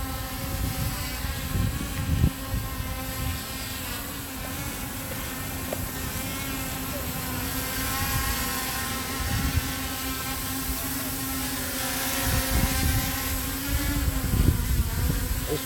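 A Yuneec Mantis Q quadcopter drone flies over Southwest Philadelphia in gusty wind, its motors giving a steady buzzing whine at moderate distance with occasional low wind rumbles.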